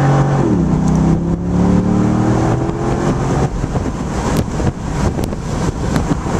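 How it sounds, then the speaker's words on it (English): A 2006 Corvette convertible with the 400-horsepower LS2 V8 revs up loud and close, its engine tone climbing and then roaring on under acceleration, with no one talking. "This Corvette has the LS2 V8 engine, and that means it's got 400 horsepower."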